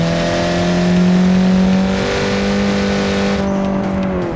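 Engine of a Formula 1 car fitted with a 1.9 TDI diesel in a racing video game: a loud, steady drone with layered harmonics, held near-constant with a slight pitch dip toward the end, no talk.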